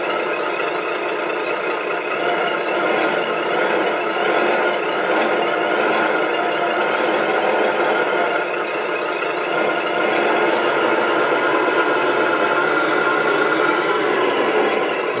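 A diesel truck engine sound from an RC truck's sound unit rumbles steadily throughout, a continuous idling drone with no pauses, close and fairly loud.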